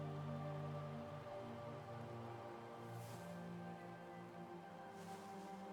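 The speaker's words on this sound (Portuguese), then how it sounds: "Olha a chuva." Rain in the video game Banishers: Ghosts of New Eden, a steady soft patter of drops on surfaces with a low background hum, continuous and fairly faint throughout.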